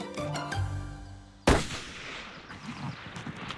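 A single sharp rifle shot cracks out at a decoy deer amid poachers in the woods, a loud sudden blast with a fading echoing tail, preceded by a low rumbling hum.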